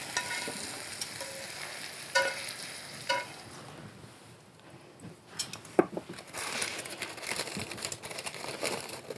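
Cooked farro with bacon, garlic and shallots heats in a pan, giving a soft, steady sizzle close by, broken by scattered stirring scrapes and clicks from a utensil, with no talking.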